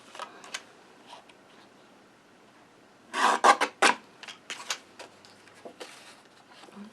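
A paper trimmer blade slides across a card layer in a cluster of short rasping cuts at mid-clip, with a few fainter scrapes and taps before and after in a quiet room.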